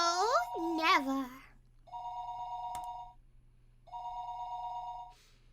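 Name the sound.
telephone ringing in Higurashi When They Cry video game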